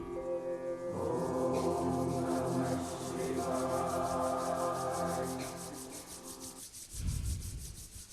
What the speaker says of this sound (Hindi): अपने दोनों हाथों को रब कीजिए।